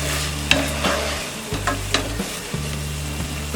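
Vegetables fry and get stirred in a pan for zero-oil street-style masala Maggi after five minutes on a low flame, with a steady close sizzle broken by sharp clinks and scrapes of the spoon against the pan.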